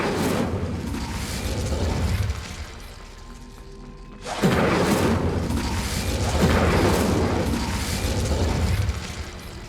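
An Incendio fire spell cast in Hogwarts Legacy, heard as a low, rumbling whoosh of flame with boomy bursts. The sound drops briefly near the middle, then swells again into a dense roar that carries to the end.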